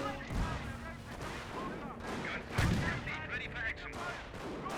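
Royal Artillery gunfire in the strategy game Company of Heroes, several heavy booms and blasts over a rumbling battlefield, with a voice talking across the noise.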